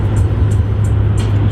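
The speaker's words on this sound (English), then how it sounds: "Number two is the road noise." Road noise inside a moving 2007 Toyota Yaris: a steady low rumble and hum from the tires and road, with faint periodic hiss, loud and constant with no talking.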